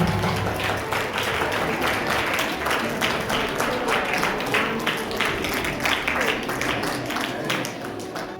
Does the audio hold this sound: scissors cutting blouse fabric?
no